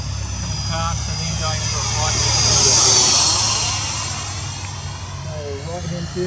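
A Freewing MiG-21 model jet rolls down a runway at Wakapuaka, New Zealand, its electric ducted fan whining steadily and loud, swelling slightly as it passes near with wind noise.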